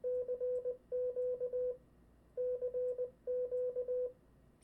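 A single steady Morse tone keys out CQ twice: two quick groups of dits and dahs, a short pause, then two more groups, clear and alone.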